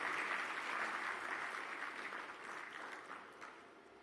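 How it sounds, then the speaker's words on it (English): Audience applause for a keynote speaker at an Africa summit conference, a dense, steady clapping that begins loud and slowly tapers off over a few seconds. "A big applause for our keynote speaker."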